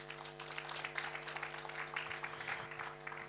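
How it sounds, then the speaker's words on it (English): Applause from an awards-ceremony audience honoring youth-owned brand winners, a steady, moderately faint wash of clapping over a persistent low hum, with no voices. "Can we clap for them?"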